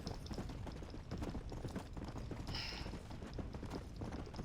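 Horse hooves clip-clop in a rapid galloping rhythm in the Red Dead Redemption: Undead Nightmare video game, moderately loud and steady over a dense background of game ambience.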